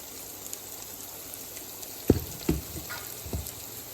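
Turkey fries in a pan with a steady, soft sizzle throughout, broken by a few sharp close pops and clatters near the end.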